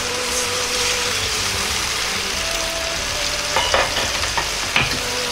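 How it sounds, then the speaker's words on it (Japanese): Pork belly sizzling steadily in its rendered oil in a pan, with soy sauce being added and a few stirring clatters near the end, close and continuous with no voices. "このくらい肉が油に浸るくらいになってきたら醤油を入れます。"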